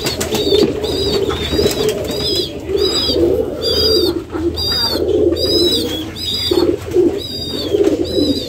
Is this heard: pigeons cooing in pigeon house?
yes